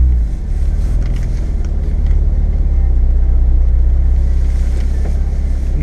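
A car being parked at a McLaren dealership in Manchester, its engine a steady low rumble heard from inside the car at constant loudness throughout, with no talk.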